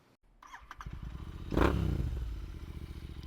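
A Royal Enfield Continental GT 650 motorcycle starting up: a few clicks and a brief crank, then the engine catches with a sharp burst and settles into a steady, close idle.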